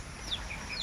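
Chickens clucking outdoors in the countryside of Old Damulog, Bukidnon, a few short clucks fairly near over rain-like background noise.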